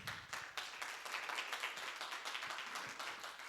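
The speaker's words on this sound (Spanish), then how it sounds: "Denle un fuerte aplauso al Señor" Congregation clapping together in a church service, a dense steady patter of many hands filling the room, fairly faint and continuous without a break.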